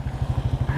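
A motorcycle, freshly washed, rides slowly along a quiet road, its engine pulsing in a steady, loud, even thump close by, with no talk.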